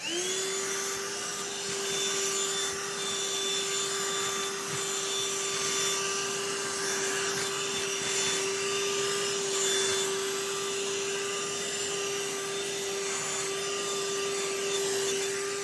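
A BLACK+DECKER beyond cordless Dustbuster handheld vacuum running continuously with a steady high-pitched motor whine and rushing airflow, close and loud with no talking throughout.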